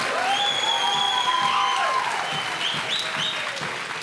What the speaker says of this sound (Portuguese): Essa salva de palmas foi meio fraca,